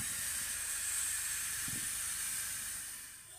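Steady, moderately faint hissing from a pressure cooker on medium heat while yogurt sets inside, a constant airy steam sound with a brief low thump partway through, then easing off slightly at the end.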